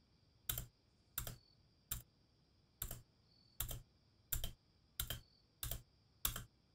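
Computer keyboard spacebar being pressed nine times in an even rhythm, each a crisp, close click over a faint steady hum.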